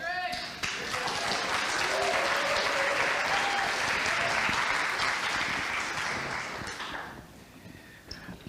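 Sustained applause and cheering from an audience at a panel and Q&A event, loud and dense for about six seconds before tapering off toward the end.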